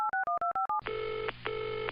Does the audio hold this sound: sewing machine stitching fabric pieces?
no